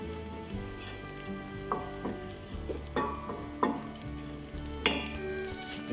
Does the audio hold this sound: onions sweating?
yes